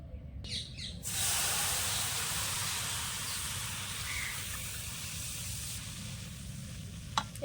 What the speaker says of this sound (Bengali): এবার আমি ঘন দুধটা দিয়ে দেবো